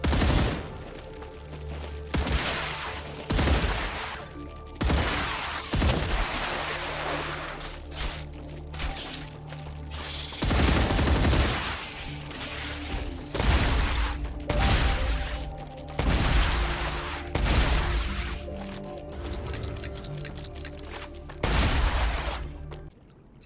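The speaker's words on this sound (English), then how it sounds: "Let's get the rifle out." A rifle fires at swarming bugs in the video game StarRupture in a loud run of repeated shots and bursts, with game music and effects running underneath.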